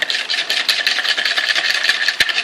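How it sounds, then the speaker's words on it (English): A whisk beats a meat sauce mix in a bowl, giving a continuous fast rattling scrape with a busy, dense texture that keeps going without a break and stays close and fairly loud. "I'm going to whisk that up now"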